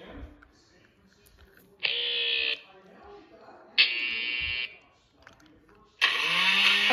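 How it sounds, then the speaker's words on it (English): A blender motor whirs loudly near the end, after two shorter electronic buzzing bursts, with low background chatter in between. "A blender."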